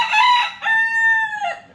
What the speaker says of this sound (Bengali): আল্লাহ, মুরগি এখন পাগল বানাই ফেলো